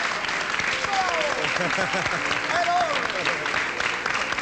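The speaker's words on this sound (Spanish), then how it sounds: "Nos vamos con este aplauso cariñoso del público." Warm studio audience applause closing a 1990 Chilean television interview, a steady wash of clapping running throughout with a voice speaking over it.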